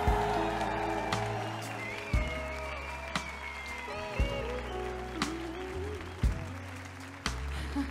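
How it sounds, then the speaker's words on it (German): Crowd at an open-air concert claps and cheers in a sustained wash of applause while bass and keyboard tones from the stage ring underneath, with a few sharp thumps along the way. "Bitte schenken mir einen riesigen Applaus"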